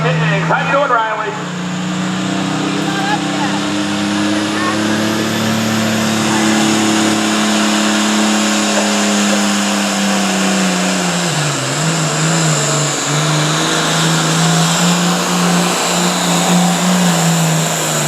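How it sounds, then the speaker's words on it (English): International 1066 tractor at a truck and tractor pull in Caldwell, Ohio, its engine roaring loud and steady throughout, with pitch rising and falling as it labors down the track. "Calling out the way from Belpre, Ohio International 1066."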